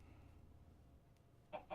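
Minecraft chickens give two short clucks near the end, over a faint low background hum.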